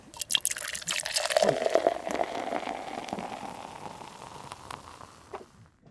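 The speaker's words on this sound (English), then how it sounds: "So I just fill this jug all the way up to the top" Water pours steadily into a one-gallon jug, a bubbling, gurgling stream that starts with some splashy knocks. It rises in pitch as the jug fills and then tapers off near the end.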